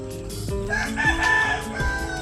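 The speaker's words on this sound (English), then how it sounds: "The loudest residents here, though, of course, have to be the roosters." Several roosters crow in a noisy tropical farmyard in Tagaytay, the rising cock-a-doodle-doo calls repeating about every half second to a second, close and loud over a dense bed of background clucking and ambient noise.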